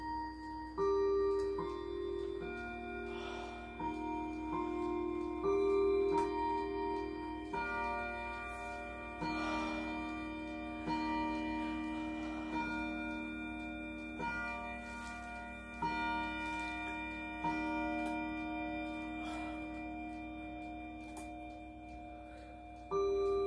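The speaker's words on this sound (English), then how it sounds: "As you just see, it started ticking." A mechanical clock just taken out of its box ticks steadily while ringing, chime-like tones sound and fade at regular intervals, clear and close in a quiet room.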